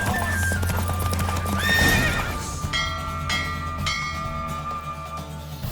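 In The Witcher 3: Wild Hunt, a horse gallops with quick, rhythmic hoofbeats, neighs loudly partway through and keeps running under game music and a faint bell.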